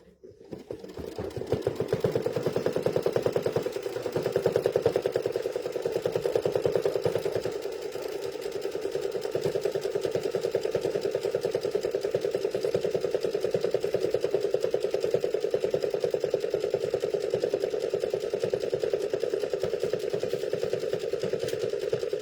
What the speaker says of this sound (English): All right, now it's going to stitch the line across our other